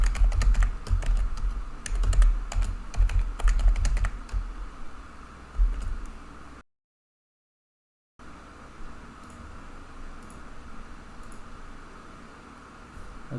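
Steady typing on a computer keyboard while entering a password, dense rapid key clicks close up, a brief dead silence midway, then lighter continued tapping over a faint fan hum.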